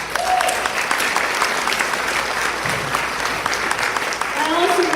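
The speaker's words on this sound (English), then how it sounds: "ladies and gentlemen, please give a round of applause to both of them." A gala audience applauds with loud, dense clapping that holds steady throughout, close and full with a crowd murmur underneath.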